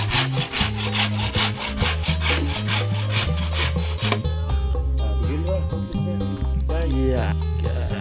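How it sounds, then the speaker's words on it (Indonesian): Bamboo is cut with a hand saw in rapid, rhythmic back-and-forth strokes that rasp loudly and close, pausing briefly midway before resuming, with people talking over the work. "barusan sudah dipotong bambunya."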